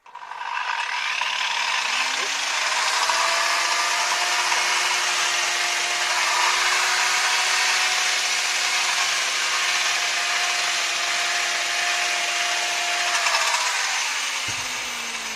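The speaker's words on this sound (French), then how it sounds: "Je reprends ma disqueuse ou ma meuleuse d'angle et je recommence." An angle grinder runs continuously while cutting through hemp wool insulation, a loud, close, steady whine with broad abrasive hiss that fades out at the end.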